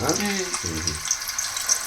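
Dried salted prawns frying in oil hiss with a steady, close sizzle, while a voice briefly sounds over it at the start.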